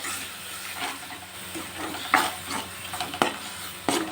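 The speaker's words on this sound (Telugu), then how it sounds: "ఈ మసాలా కారము అంతా సరిపోయేట్టు కలిపేసుకోవాలి" Spoon stirring masala and chili through fish curry in a sizzling pan, with soft scraping strokes and a few sharp clanks against the pan over a constant frying hiss.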